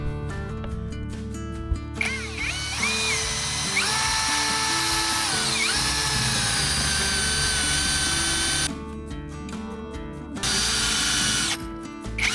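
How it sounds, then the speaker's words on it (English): A power drill whines in sustained bursts while pre-drilling screw holes for a window installation, its pitch shifting as it bites into material, with brief pauses between runs. "I'm gonna pre-drill them."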